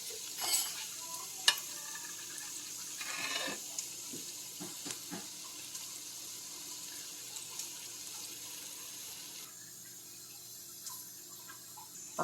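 Cake batter for blimps cake is stirred in a pot with orange juice and orange peel, giving faint, soft scraping and sloshing with a few light clinks, quiet and close.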